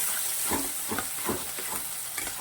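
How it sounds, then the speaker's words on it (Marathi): Garlic and ginger paste sautéing in a pan for a moong dal, a continuous close sizzle broken by rhythmic scraping stirs. "लसन आणि अद्रकाची पेस्ट घातली आहे मी निम्मी घातली आहे निम्मी ठेवलेली आहे तीही मस्त अशी परतून घ्यायची आहे"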